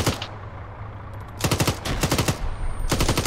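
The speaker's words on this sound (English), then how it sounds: "I heard shots left." Rapid bursts of automatic gunfire ring out in the ARMA military video game, several close, loud volleys in quick succession with brief pauses between them.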